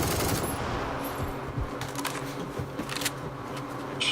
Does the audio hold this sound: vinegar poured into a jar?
no